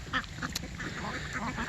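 Eight-week-old ducks quack in a string of short, nasal calls, several birds close by, with a soft murmur of talk underneath.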